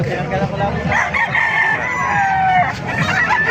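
A black rooster crows loudly and close by at a poultry market, its long harsh call rising and holding, with other fowl clucking and some voices in the background.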